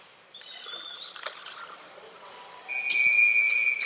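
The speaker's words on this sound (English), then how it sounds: "we have a whistle" A referee's whistle at a women's junior ice hockey playoff game on an indoor rink, a thin shrill tone blowing for about a second over faint arena noise and skate sounds.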